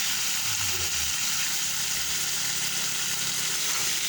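Steady sizzle of frying in hot oil, with a dense broadband hiss throughout and a faint low hum early on, no talking; stirring is not distinctly audible.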